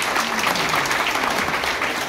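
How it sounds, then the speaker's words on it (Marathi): Loud, steady applause fills the whole stretch as an audience claps for the organizing team at the opening of a constitution awareness training camp in Jalgaon, with no voices standing out. "निखिल आणि त्याच्या सगळ्या टीमसाठी जोरदार टाळ्या वाजवा"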